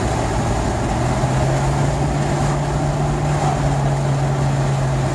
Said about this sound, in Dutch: En nu rijden we 40 km per uur.